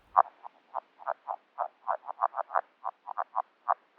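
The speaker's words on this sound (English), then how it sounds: "A chorus of randy red-legged frogs recorded with a hydrophone during their breeding season in February in a half-frozen wetland" A chorus of red-legged frogs in breeding season, picked up underwater by a hydrophone in a half-frozen wetland in February, gives steady repeated low croaks in quick irregular pulses, close and clear with no other sounds.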